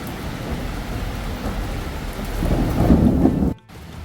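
Heavy rain pours beside a small hotel pool in Pattaya, Thailand, with deep thunder rumbling loud and close, building over a few seconds before cutting off abruptly.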